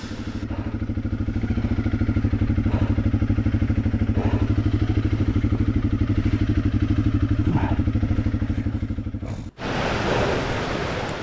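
A motorcycle riding downhill on a dusty dirt track, its engine a loud, steady, close drone with rough rattles over the terrain, then a brief dropout followed by harsh wind noise on the microphone, with no talk.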